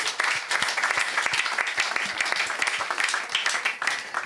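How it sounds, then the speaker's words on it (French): A church audience claps and cheers in praise of Jesus, a steady, dense applause of many hands that continues without pause, with crowd voices mixed in underneath. "Acclame pour Jésus."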